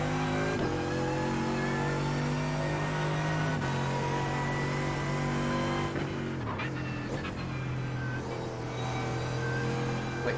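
A Mercedes race car engine revs hard in an N24 sim race, a loud steady high drone that holds pitch, then drops and climbs through quick gear shifts, with brief tire noise.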